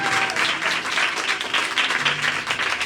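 Worship congregation clapping in the name of Jesus, a loud, dense burst of many hands pulsing in waves, close and sustained throughout.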